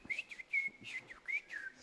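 Silbo Canario, the whistled language of Gran Canaria, in a parlour-style practice whistle: a close series of sharp, high, gliding whistle tones in quick rising and falling phrases, with no voice.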